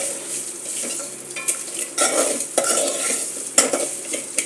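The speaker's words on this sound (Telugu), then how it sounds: "ఉల్లిపాయ కరివేపాకు పచ్చిమిరపకాయలు కూడా ఒక 5 నిమిషాలు వేగితే మంచి రుచి వస్తుంది" Onion, curry leaves and green chillies frying for a lentil tamarind stew, a lively sizzle with repeated loud stirring scrapes and spoon knocks in uneven bursts, close by and without talk.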